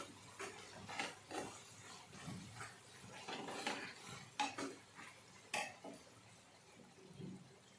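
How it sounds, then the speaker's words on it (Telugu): Spoon scraping and clinking in a pan as turmeric is stirred into a tomato curry, a faint series of irregular close scrapes and taps with no talk. "తగినంత పసుపు వేసుకొని ఒకసారి ఇలా కలపాలి"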